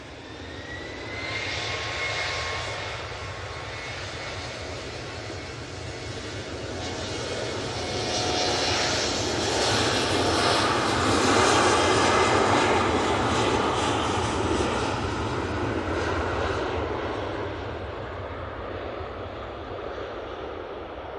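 Jet engines of an SAS airliner at Manchester Airport, a steady broadband roar that swells toward the middle and eases off again, heard from a distance with wind buffeting the microphone.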